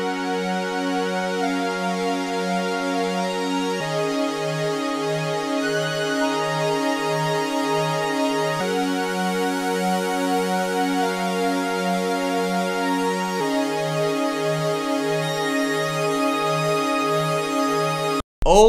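Layered synthesizer chords processed through a drum-oriented plugin, sustained harmonic stacks changing about every four seconds with a pulsing, wobbling modulation, loud and steady with no talking, cut off sharply near the end.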